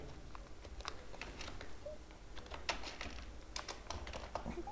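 Steady clatter of computer keyboard typing, quick irregular keystrokes at close range, while JavaScript code for confirm-password validation is entered; no talking.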